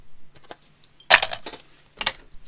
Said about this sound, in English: So I can get to taking these clips off.